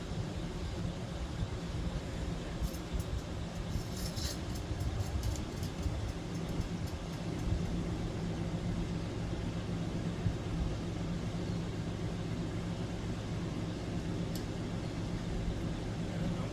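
A Hunter C-18 "The Original" adjustable ceiling fan runs in reverse, giving a steady low motor hum and soft airy whoosh that holds even and faint throughout, with a few light ticks and no talking.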